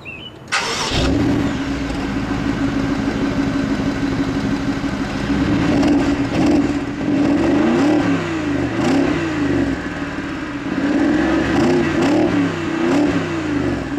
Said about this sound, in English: but a really fantastic engine.